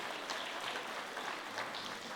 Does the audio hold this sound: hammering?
no